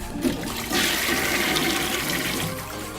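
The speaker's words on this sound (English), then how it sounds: "And G6 is toilet." A toilet flush sound effect played from a soundboard pad: a loud rushing swirl of water surging up and draining steadily for a few seconds, with no talking over it.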